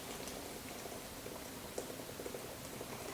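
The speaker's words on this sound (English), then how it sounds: "pour the boiling water directly into the pot" Boiling water from a kettle is poured into a pot on the heat for making coffee, producing a soft, continuous hiss and patter at low volume with no voices.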